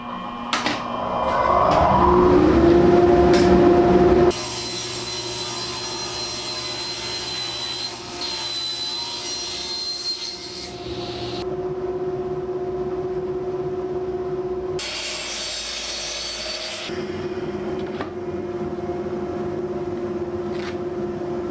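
A power saw cuts 3/4-inch plywood for a rolling shop stool in a woodworking shop. A loud whining burst of a few seconds is followed by a long, steady motor hum that flares briefly once more.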